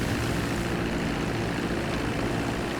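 The Mammoth Dodo seaplane in GTA 5 Online runs its propeller engine in a dense, unbroken roar that holds steady and loud throughout.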